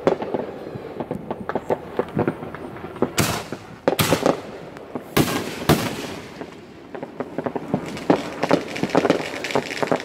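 Fireworks going off, some shells around 500 grams each: a dense, continuous crackle and popping with several loud booming bursts near the middle, heard at a distance outdoors.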